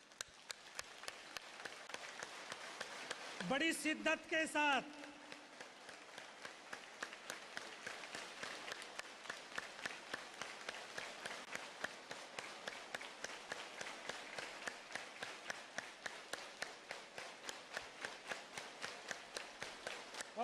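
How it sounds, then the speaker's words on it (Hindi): A seated audience at a speech by someone in Puttur keeps up a long, steady rhythmic clapping in unison, dense and fairly loud throughout, with a short burst of a voice near the start. "2 मिनट तक तालियां जरा बजाइए"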